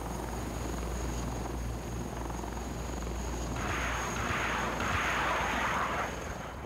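A Tiger attack helicopter flies past with a steady rotor and turbine roar, a constant high whine above it, and broadband swelling louder in the second half as it draws nearer.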